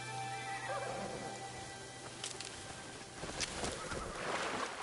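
A horse whinnies in the video game Assassin's Creed Shadows, a moderately loud neigh rising over steady ambient game sound with a low drone, followed by some rustling and light hoof-like movement.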